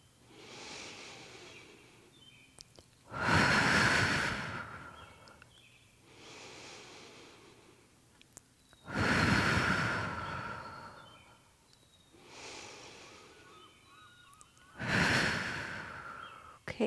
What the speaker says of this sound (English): Breathe into your side ribs and your back. And breathe out, draw your navel up to your spine.